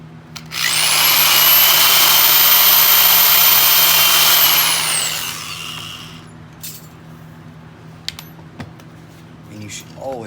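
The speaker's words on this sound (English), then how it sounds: "And drill your hole." A power drill whines loudly and steadily as it bores into brass for several seconds, then winds down, followed by a few light clicks.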